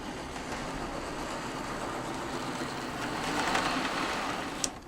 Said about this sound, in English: We'll drive the train into the loop.